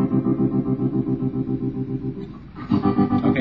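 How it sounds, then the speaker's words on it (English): Strummed guitar chords pulse in a steady tremolo through a Line 6 Spider amp, the chopped rhythm holding through a brief dip before a fresh chord rings out loud and close, with no talking. "we have to use a sound effect here called tremolo"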